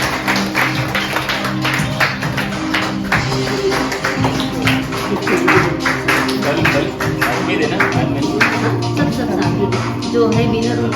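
Audience applause for the prize winner at a birthday celebration, sustained clapping from a crowd running throughout, loud and dense, with voices talking and music underneath.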